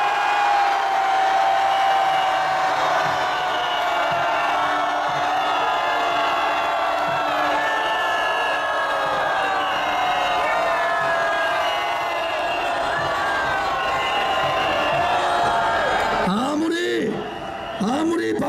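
Large crowd at a political rally outside Yeongdeungpo Station cheering and shouting in a sustained, loud roar of many voices, tapering off at the end where a single voice cuts in.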